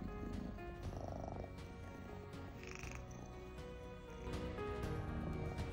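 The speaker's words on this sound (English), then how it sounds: "Do you all hear that purr motor on him?" A ragdoll kitten purrs in a low, steady rumble, very quiet and close, with faint soft handling noises and a few small chirps over the top.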